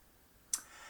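A single sharp, short mouse click on a send button in a web form, quiet and isolated against faint room tone.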